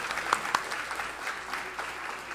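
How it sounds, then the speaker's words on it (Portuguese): A church congregation applauding during a Sunday morning service, a steady, moderate wash of clapping with a couple of sharper individual claps standing out early. "Vamos dar uma salva de palmas mais forte"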